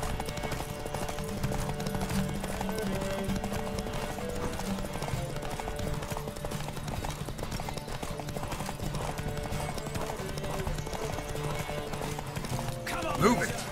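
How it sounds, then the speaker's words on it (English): Rhythmic hoofbeats of a galloping horse during a race in The Witcher 3, steady and moderately loud, with speech and music running underneath. "Don't spare the horse!"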